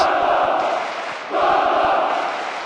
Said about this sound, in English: Crowd just waiting for the half-time whistle